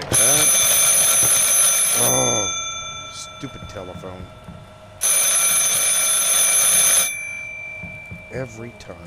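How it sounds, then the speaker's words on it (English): Telephone ringing in a Bigfoot-hunting video game, a loud shrill electronic ring in two long bursts with a pause between, and people talking over and between the rings. "Shut up, telephone."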